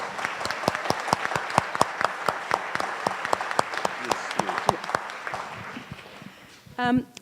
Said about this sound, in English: So could we have another round of applause?